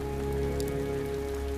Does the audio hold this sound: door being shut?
no